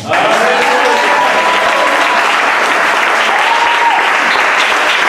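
A church congregation applauding, heard as dense, loud and steady clapping from a large crowd that fills the whole stretch without a break.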